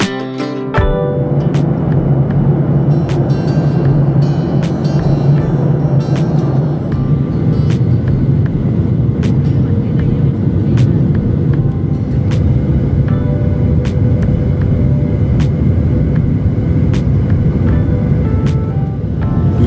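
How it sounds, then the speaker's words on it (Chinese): Inside the cabin of an airliner landing at Hong Kong's Chek Lap Kok airport, a loud, continuous engine and airflow roar rumbles throughout, broken by occasional faint clicks and knocks. "而家已经降落咗香港赤鱲角国际机场。"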